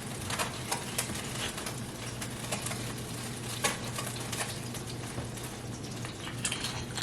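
Vegetables and seasonings stirred in hot avocado oil in a pan, a steady close sizzle with scraping stir strokes and occasional louder clatters throughout.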